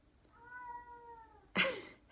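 A single drawn-out, mournful cat meow, fairly close and alone, ending in a sudden louder rustling burst.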